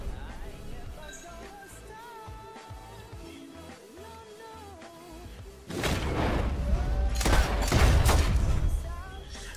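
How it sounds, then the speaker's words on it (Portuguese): Gunfire in Red Dead Redemption 2, a burst of several sharp, loud shots with thuds and whooshes after a quieter stretch of game sounds. "eu dei dois tiros na arma, mas ele não soltou, eu dei o terceiro"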